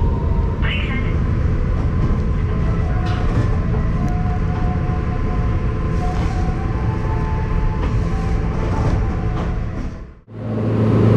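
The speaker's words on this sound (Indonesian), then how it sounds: "kereta api Majapahit tiba di stasiun Semarang Tawang" The Majapahit passenger train rumbles steadily close by as it arrives at Semarang Tawang station, with wheel noise and metallic squeals over a dense roar that fades briefly near the end before resuming.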